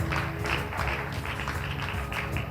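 Applause from a school audience greets a student called up at a malaria quiz competition, a dense steady patter of clapping that holds for the whole stretch.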